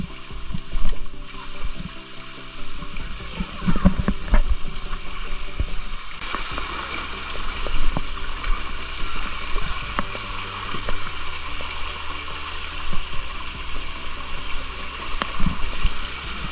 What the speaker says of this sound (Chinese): 小瀑布